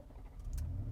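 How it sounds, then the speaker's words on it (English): A 2020 Nissan Patrol V8 engine fires up with a rising low rumble that settles into a steady, loud idle by the end. "So if I start the car up"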